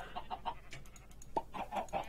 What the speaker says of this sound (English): So we got a chicken farm